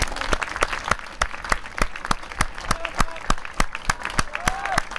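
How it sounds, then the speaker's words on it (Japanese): Stadium crowd applauding both teams after an American football game at Fujitsu Stadium, a steady wash of distant clapping with sharp, evenly spaced rhythmic beats cutting through and brief whistles. "両チームに今一度大きな拍手をお送りください。"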